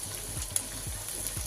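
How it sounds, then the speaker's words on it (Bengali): Ginger fries in a pan with a constant soft sizzle and a faint clink of stirring, quiet and close with no talking. "লাল লাল ভাজা হয়ে গেছে। আমি আদা দিয়ে দিলাম।"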